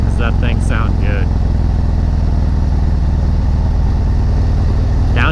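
A motorcycle fitted with a Fuel Moto 124 big bore kit and an S&S 475 cam rumbles steadily at low speed, a loud, constant deep engine note with a voice speaking briefly over it.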